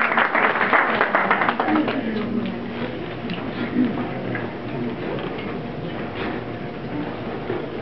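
Audience applause for the 2012 Woman of the Year, Phyllis Woods, a dense steady clapping from a crowd that stays fairly loud throughout, with some speech mixed in.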